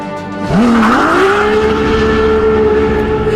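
A Ferrari LaFerrari hybrid hypercar launches hard, its engine note climbing sharply then settling into a strained, rising howl while tires squeal, loud and close for a few seconds.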